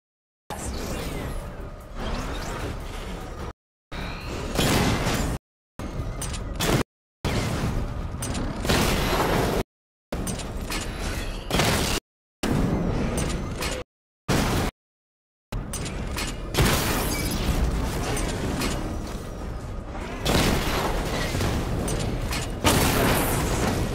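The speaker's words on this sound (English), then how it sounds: "Charge up missile barrage to level 2 and destroy 4 targets to complete" Missile barrage explosions from the Batmobile simulation in the video game Arkham Knight, repeated loud booms and whooshing blasts in chopped bursts, with engine rumble and gaps of silence between them.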